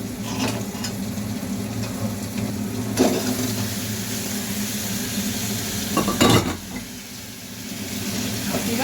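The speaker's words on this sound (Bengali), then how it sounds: "এবার নাড়ছি।" Boiled potatoes being stirred into fried spice paste for aloo dum, with a steady close sizzle under repeated spatula scrapes and a couple of louder knocks against the pan.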